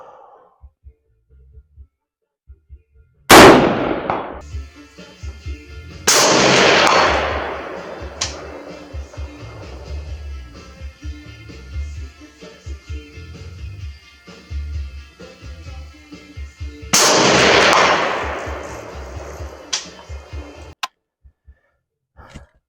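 An SDM-R designated marksman rifle firing 77 grain rounds on a range: three spaced, loud sharp cracks, each followed by a long ringing decay, with quiet handling noises and faint breathing between shots.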